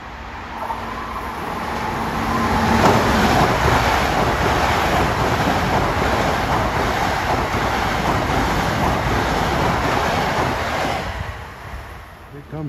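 A Long Island Rail Road commuter train passes Merillon Avenue station at rush hour as a loud, steady rushing roar that swells and then fades away.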